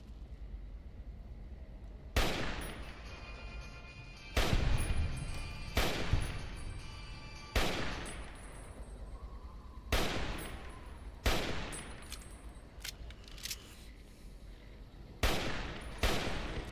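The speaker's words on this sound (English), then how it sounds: "Like this is just a regular sniper rifle." A sniper rifle fired in Fallout: New Vegas, about nine loud sharp shots spaced a second or two apart over ambient game background, each with a short booming tail.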